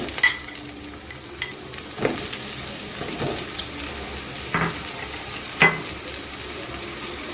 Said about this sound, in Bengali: আমি পনির ভাজা তেলে বেগুনটা ভেজে নেব তার জন্য বেগুনগুলো দিয়ে দিচ্ছি